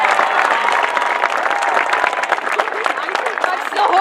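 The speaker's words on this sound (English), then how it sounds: "give them a round of applause for what they have done for the band" A round of applause from the crowd at an outdoor street concert by a high school band, steady, dense clapping throughout, with a voice faintly heard beneath it.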